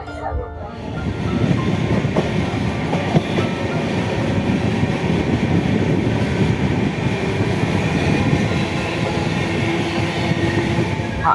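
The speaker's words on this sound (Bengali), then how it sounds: "এই কলকাতা থেকে এখন ট্রেন ছেড়েছে" A moving train just out of Kolkata with a sustained rumble and rhythmic clickety-clack of the carriages heard from inside, steady and loud for the whole stretch, with some faint voices in the carriage.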